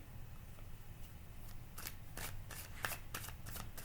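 Tarot cards shuffled close by in quiet surroundings, a run of soft riffling bursts that grow busier toward the end, with no talking.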